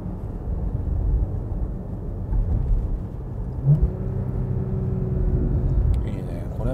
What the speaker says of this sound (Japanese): これやっぱシフトダウンした時のこの、ね、吹き上がるバーンと音が